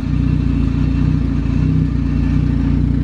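A sleeved Honda GSR B18 engine idles steadily on a dyno, with a loud, even, throbbing hum that stays constant throughout and has no talk over it.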